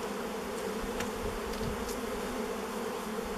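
A dense swarm of honeybees drones steadily around an old beehive opened after more than thirty years, a loud continuous buzz with individual insects whining past close by.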